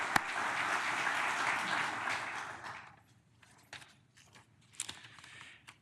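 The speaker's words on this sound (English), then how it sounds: "So let's have a big round of applause for both of our CBS Austin and Intercom for their support." An audience at the Say Thanks Austin 2018 event gives a dense round of applause that lasts about three seconds, then dies away into scattered claps and thumps.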